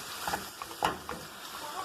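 Soft sizzling and crackling of garlic and aromatics frying in a pan, with light stirring clatter and a faint voice in the background.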